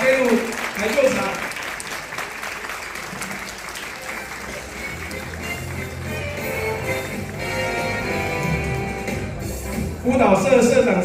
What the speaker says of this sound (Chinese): 让我们再一次以最热烈的掌声欢迎我们阿贝路台秀场。